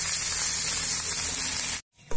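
Onion, green chilli, chopped tomato and ginger-garlic paste with a little mung dal frying together in oil, a close steady hiss and crackle that cuts off abruptly near the end.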